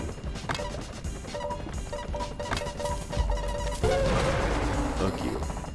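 Boss fight against a cement cannon in the video game Donut County, heard as a steady stream of crashing, smashing impacts and booms layered over game music, with a heavier, denser burst of noise in the final seconds.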